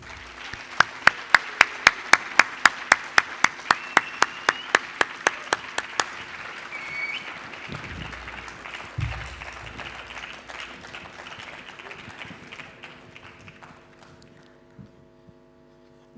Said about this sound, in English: give an energetic round of applause to our distinguished guest, Toastmaster Mohammed Issa